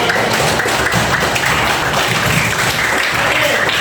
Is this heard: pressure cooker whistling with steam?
no